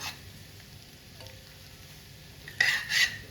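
Prawns and ridge gourd fry gently in a pan as they are turned, a low steady sizzle with a couple of brief bright scrapes of the spatula near the end and no talking.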